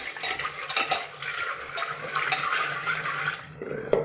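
Peanut kernels washed in about a cup of water in a kitchen, with steady sloshing, splashing and light clattering against a vessel running close and fairly loud throughout.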